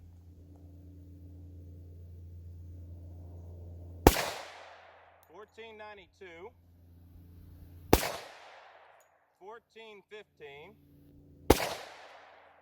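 Three 10mm pistol shots are fired outdoors over a chronograph, each a loud, sharp crack spaced several seconds apart. Low wind rumble comes before the first shot, and someone speaks briefly between shots.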